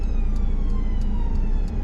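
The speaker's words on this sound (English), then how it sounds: "wait, ambulance is coming, look. Can you hear him?" Ambulance siren heard from inside a car at a roundabout, a steady wailing tone sitting over loud, continuous engine and road noise for the whole stretch, with no talk.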